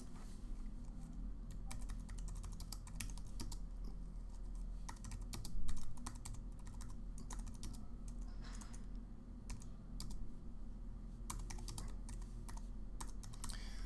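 Typing on a computer keyboard while adding text to a Microsoft Sway page, with a steady run of quiet, irregular key clicks over a low background hum and no talk.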